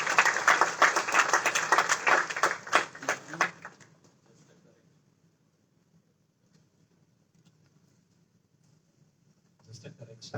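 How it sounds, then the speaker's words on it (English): An audience at a corporate HR and ESG symposium applauds as a panelist takes a seat on stage. The clapping is loud for about four seconds, then fades to near silence before a voice begins. "Please give a round of applause."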